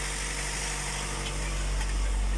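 Vauxhall Corsa engine idling steadily with a low, even hum and faint vibration, close and fairly quiet, no voices over it.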